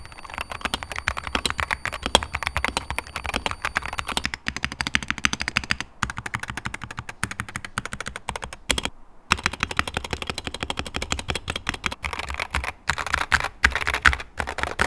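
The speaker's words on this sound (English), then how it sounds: "The sound of this keyboard honestly isn't bad at all." Rapid, steady keystrokes on a Wooting 60HE Hall effect gaming keyboard, close and crisp, with a brief pause partway through and no voices.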